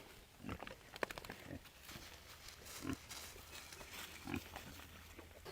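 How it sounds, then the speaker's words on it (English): Pigs grunt in the mud of a leaky pond, several short, low grunts scattered across the scene, moderately near, with soft wet sloshing and outdoor background between them. "pigs making good use of the mud."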